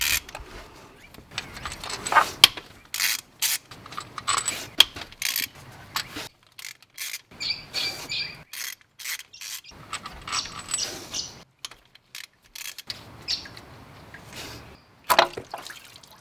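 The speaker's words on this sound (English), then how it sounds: "So they are all 12mm bolts and nuts. I'll loosen all those off." A ratchet loosens the 12mm bolts and nuts on the water pump of an Isuzu MU-X / D-MAX 4x4, giving bursts of quick metallic clicks and scrapes separated by short pauses, close and moderately quiet.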